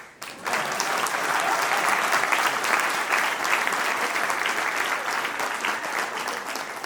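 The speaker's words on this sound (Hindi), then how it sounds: "ताली बजाने में क्या जाता है?" Audience at a Realtors Day talk show event breaking into applause, a loud, dense and sustained wash of clapping that starts abruptly and holds steady for about seven seconds.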